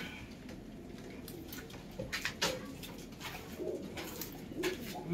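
A pair of Kalanka pigeons, breeding birds kept at home, coo softly in low, rolling bursts, with a few more distinct coos near the end over a steady background hiss.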